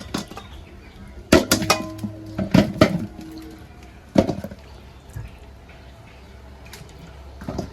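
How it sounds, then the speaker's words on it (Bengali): Raw mangoes being washed and dropped into a cooking pot in a home kitchen, a few sharp clinks and knocks with small splashes, scattered irregularly over quiet background. "আমগুলো ধুয়ে হাঁড়িতে নিয়ে নেব।"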